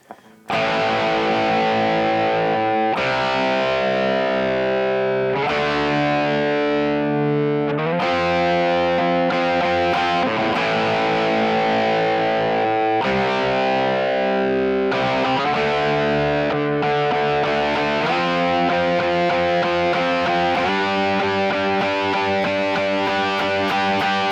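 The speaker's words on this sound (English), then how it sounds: "you can play it with power chords" Heavily distorted electric guitar strums power chords in a steady riff, loud and continuous, with chord changes every few seconds and no voices.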